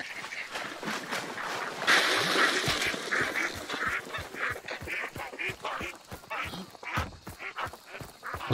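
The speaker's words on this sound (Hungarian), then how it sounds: "Kacsák." Ducks quack in the video game Hunt: Showdown, a dense, continuous chorus of loud rhythmic quacks over game ambience.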